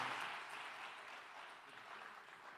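An audience applauds a doctor at a precision-medicine lecture, a soft, continuous patter of clapping that stays faint and fades slightly.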